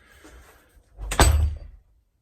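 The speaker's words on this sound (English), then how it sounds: "close the door." A soundproof recording booth door in a home studio swings shut with one heavy, close thud that rings briefly, after a soft faint rustle.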